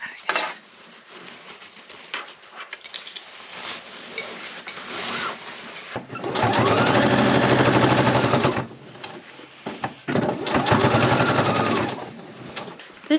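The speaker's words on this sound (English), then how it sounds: "Let's get this strap sewn back on the bag." A sewing machine stitches a strap back onto a hammock bag, running in two loud, steady rattling bursts at close range, with quieter handling clicks and rustles between them.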